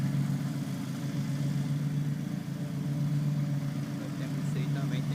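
A Tramontina Trotter riding lawn mower engine runs steadily with a constant low hum and mild vibration, close and fairly loud throughout, while someone talks over it.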